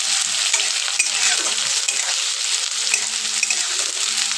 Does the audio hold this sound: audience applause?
no